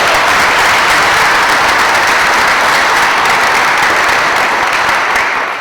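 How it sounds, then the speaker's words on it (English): Loud, sustained applause from a dinner crowd honoring a family at a school event, a thick continuous roar of clapping that stays level throughout. "So I'd like to give them a round of applause."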